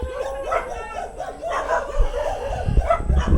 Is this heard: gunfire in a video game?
no